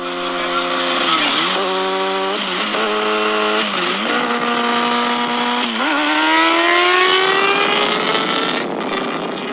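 A motorcycle at full throttle, its engine note climbing repeatedly through a series of quick gear shifts before pulling into a long, rising wail, loud and close throughout.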